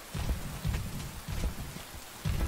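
Soft steady rainfall in the video game Rain, a gentle close patter with a few slightly stronger bursts, quiet and without voices.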